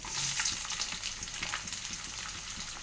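Onions fry in hot oil with mustard seeds, a steady close sizzle with faint crackles and occasional stirring, no voices.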